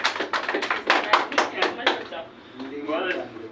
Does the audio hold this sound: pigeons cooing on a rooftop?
no